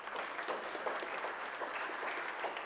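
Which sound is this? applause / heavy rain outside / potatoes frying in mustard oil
applause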